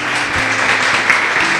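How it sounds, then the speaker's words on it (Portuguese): Church congregation clapping in praise during a worship service, a steady crowd of hands heard close, with a faint sustained hum beneath. "Louve a Ele com suas palmas."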